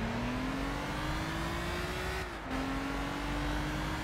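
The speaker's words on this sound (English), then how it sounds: "Time for the Ferraris. The Ferrari Dino, 1 minute." A Ferrari Dino engine from the 1960s–70s drones steadily in Gran Turismo 6 at the Goodwood Festival of Speed, its pitch rising as the car accelerates through a gear, then dipping briefly at an upshift before it climbs again, loud and continuous.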